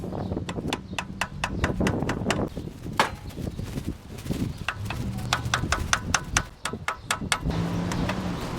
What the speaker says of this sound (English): I got a brass hammer. Just gonna loosen it up.